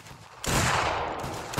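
In Mount & Blade Warband's Anglo Zulu Reloaded mod, a loud musket volley bursts out over lingering battle noise, a dense crackling roar that holds for most of a second before easing off.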